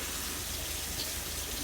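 A small amount of water is poured into a pan of homemade stuffed bell peppers as they cook, giving a faint, brief, steady trickle with no one talking.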